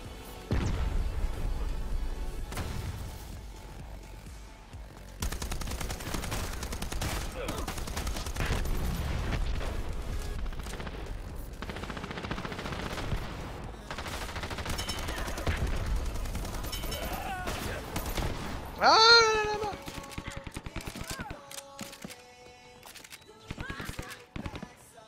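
Gunfire in the online shooter Dirty Bomb, with bursts of rapid shots and scattered single cracks, interleaved with players' talk and other game effects.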